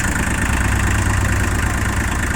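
A Shibaura P21F three-cylinder tractor engine idles steadily and evenly, a close, continuous low rumble with a broad mechanical hum and no talk over it.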